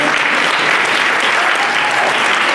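An audience at a Filipino American History Month celebration in Vallejo, California applauds elected officials, a loud, dense burst of clapping filling the whole moment without any talk over it.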